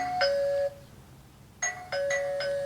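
Two bursts of a bright electronic doorbell chime from a Camstro doorbell camera, a multi-tone ding-dong ringing from a phone speaker, separated by a short quiet gap.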